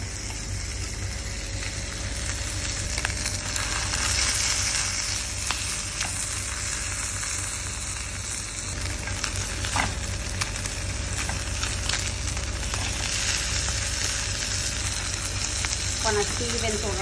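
Pork jowl sizzles steadily in a hot pan, a dense continuous frying crackle with scattered sharper pops, close and fairly loud with no voices.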